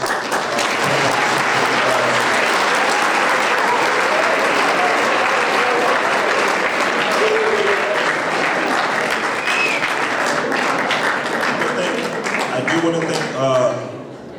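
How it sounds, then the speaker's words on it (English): Audience applause at a school fall sports awards night, dense sustained clapping filling the room for most of the stretch, with some voices underneath and a tapering off near the end. "So once again, if you could just give yourselves a round of applause."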